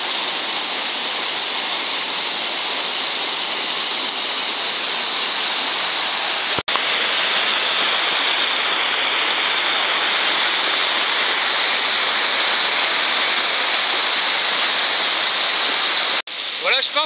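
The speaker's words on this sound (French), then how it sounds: "là c'est le ruisseau qui est bien gonflé" Swollen forest stream after rain on a bushcraft bivouac, rushing loudly and steadily throughout as a dense broadband roar, up close with no pauses.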